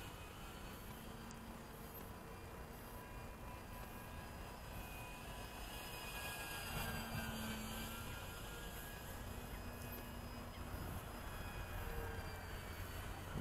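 An FMS Kingfisher RC model airplane on floats flies at a distance with its flaps up. A faint, steady electric whine carries over open outdoor air and swells slightly partway through, with no voices.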